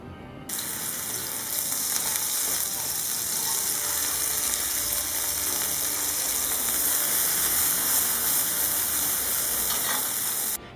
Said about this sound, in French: Dans une poêle, vous versez un peu d'huile d'olive et on va faire revenir nos boulettes.